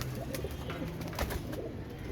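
Pigeons coo softly over a steady, noisy background, their low calls faint and continuous.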